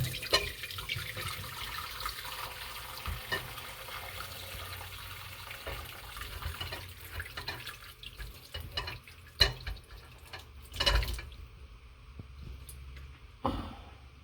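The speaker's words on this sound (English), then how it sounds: "So now we are straining the soup." Braised short rib soup strained through a kitchen strainer, a steady watery trickle and pour with occasional clinks and splashes, fairly quiet and continuous.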